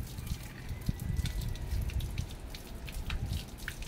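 Water in the Sumur Agung well at Keraton Kasepuhan Cirebon: a steady close trickle and splashing with scattered drips, moderately quiet and continuous.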